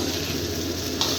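Leftover fried rice with chicken, shrimp, egg and spring onion frying in a pan, giving a steady close sizzle with a brief stirring scrape near the end and no talk.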